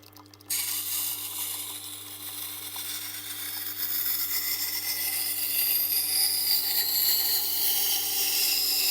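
A knife is sharpened on a Tormek grinding wheel whose surface has gone coarse, making a continuous rough, hissing grind. It starts abruptly and builds gently in loudness over several seconds, with no talking.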